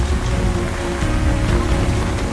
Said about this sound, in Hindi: बद्रीनाथ धाम में भी बुधवार रात से लगातार बारिश जारी है।